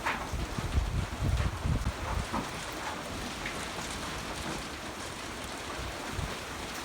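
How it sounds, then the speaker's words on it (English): Strong gusty wind roars steadily outdoors with a light rain patter mixed in, the broadband rush buffeting the microphone louder at first, then settling into a constant windy wash. "Just a little light rain. Still, wind's still kind of strong,"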